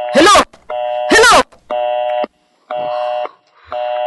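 A telephone rings in repeated electronic bursts with short pauses, loud and close, while a voice speaks over the first rings.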